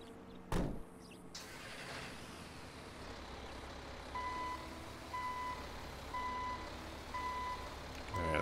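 A rollback tow truck in GTA 5 backs up with evenly spaced electronic reversing beeps, steady and clear over a low engine idle, after a brief knock at the start.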